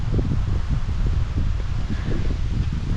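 Strong wind buffeting at a campsite during a night tent setup, a continuous rough roar heavy in the low end with gusting rustle, loud and close like wind hitting the microphone.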